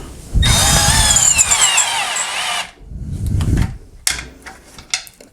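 A Milwaukee M12 cordless screwdriver driving a screw gives a close, whining motor run of about two seconds that rises in pitch. A short, lower burst and a few sharp clicks follow.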